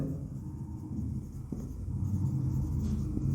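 Marker or chalk writing an example on a classroom board, a soft continuous scratching stroke over a low steady room rumble, faint and close, no voices.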